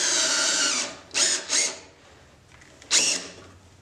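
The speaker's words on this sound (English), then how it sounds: "So with your drill going, you're just going to slide her down like this" A power drill whirs in several short bursts, starting and stopping close by, with quiet pauses between runs, while fitting a replacement tire onto a band saw wheel.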